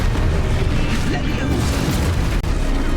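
Confringo fire-blast spell going off in the Hogwarts Legacy video game, a dense, sustained booming rumble of explosions that fills the whole stretch at high loudness, with only a momentary dip near the end.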